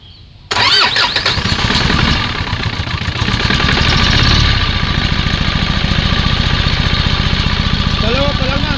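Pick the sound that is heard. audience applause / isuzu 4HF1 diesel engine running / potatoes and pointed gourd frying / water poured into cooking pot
isuzu 4HF1 diesel engine running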